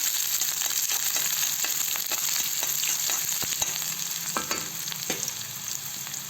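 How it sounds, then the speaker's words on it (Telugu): Onions, mustard seeds, green chillies and curry leaves fry in oil in a kadai with a loud continuous sizzle, broken by frequent crackles, pops and scraping stirs of a spoon, heard up close without talking. "ఒక కడాయిలో నూనె, ఆవాలు కొద్దిగా, ఎర్రగడ్డలు, పచ్చిమిరకాయలు, కరివేపాకు ఇవన్నీ వేసి కొంచెంసేపు కలుపుకోవాలి"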